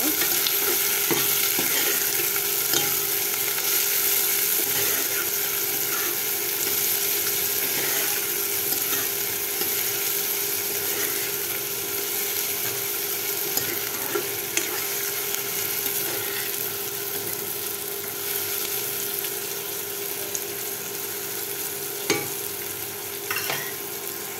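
Chopped onions sizzle steadily in a frying pan while being stirred, with occasional scraping clicks from the spoon over a constant hiss, close and fairly loud throughout.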